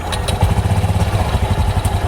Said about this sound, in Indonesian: dari starter motor yang sangat kasar, menjadi sangat halus kayak gini.